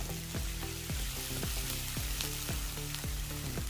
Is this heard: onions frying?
yes